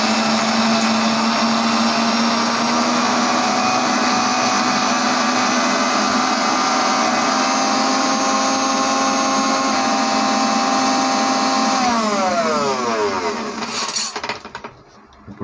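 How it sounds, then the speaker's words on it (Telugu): A mixer grinder whirs loudly and steadily as it grinds gongura pickle ingredients, a continuous motor drone that winds down and stops near the end. "ఇప్పుడు ఇవన్నీ వేసిన తర్వాత మనం మిక్సీ పడదాం"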